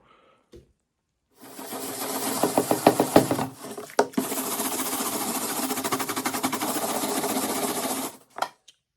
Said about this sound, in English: I'm just scraping the more stubborn bits off with a sanding blade like you would a gasket